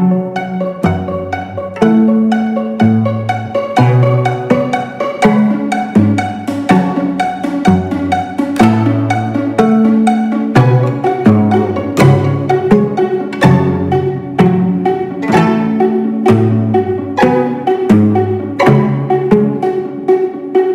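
A string quartet plays with the composer singing. Rhythmic, repeating bowed and plucked chords pulse steadily and loudly through the whole stretch, with no talking over it.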